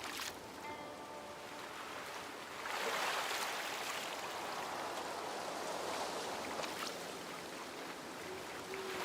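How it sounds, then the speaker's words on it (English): Paddling boat gliding through water in the Infinity Nikki video game, a steady wash of splashing and flowing water that swells louder midway and holds as a continuous near rush, with no talking. "Momo is also paddling."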